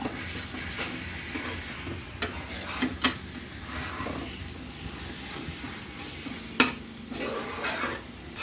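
Capsicum vangibath masala being stirred in an oily pan, a continuous close sizzle and hiss with occasional sharp clinks of a utensil against the pan, no talking.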